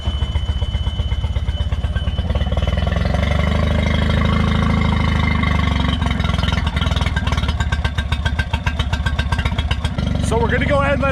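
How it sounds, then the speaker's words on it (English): Outboard motor on a Boston Whaler boat idling steadily while warming up, a loud continuous low engine drone with a faint rise in revs near the end. "we're going to go ahead and let the motor run, heat up for about 5 minutes"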